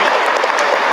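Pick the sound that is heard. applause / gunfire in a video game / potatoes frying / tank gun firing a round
applause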